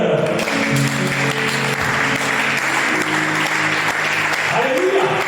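A church congregation at a Christian convention applauds steadily and loudly throughout, with voices and music tones woven into the sustained clapping.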